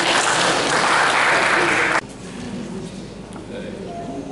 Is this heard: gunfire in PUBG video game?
no